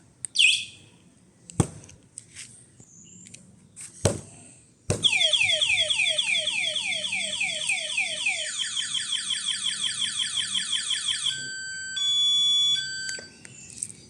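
A Super Uno Lite V2 car alarm blares after a few remote chirps, cycling through rapid descending whoops, then fast warbling tones and a steady two-tone beep, loud and close with no talk.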